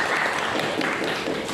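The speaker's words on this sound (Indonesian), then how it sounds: "Ada yang tepuk tangan dulu dong buat Tantris." An audience claps in dense, continuous applause in a classroom lecture setting, a short burst with a few voices mixed in.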